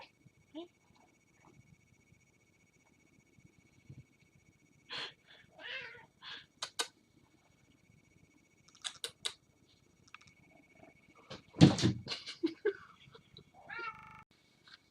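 A cat's brief vocal sounds and scattered clicks and rustles, with a louder burst of movement near the end as it falls off a chair, fairly close in a quiet room.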